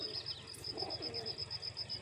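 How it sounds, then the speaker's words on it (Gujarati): Soft cooing from white pigeons kept uncaged at a feeding spot with grain, a short faint murmur with a brief chirp-like note. "એ વાં ઓલા સફેદ કબૂતરા રાખેલા છે"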